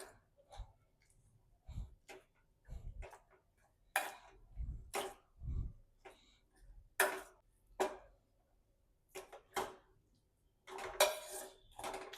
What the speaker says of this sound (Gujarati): હવે આપણે આ રીતે મેશ કરી લઈશું।